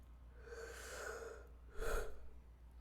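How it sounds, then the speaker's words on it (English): A faint, breathy yawn from a streamer, a long drawn-out exhale followed by a shorter, slightly louder breath at the end, close to the microphone with no talking. "Stop yawning. You are not tired."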